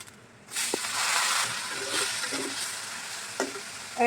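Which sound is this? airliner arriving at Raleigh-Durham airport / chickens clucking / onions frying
onions frying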